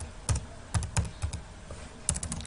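Computer keyboard typing a name into a Microsoft Access query: a few sparse, close key clicks in short irregular bursts, crisp and moderately loud with no talk.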